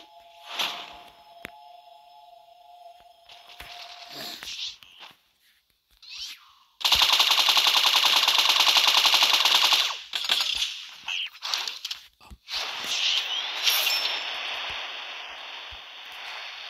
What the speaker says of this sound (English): I got a minigun.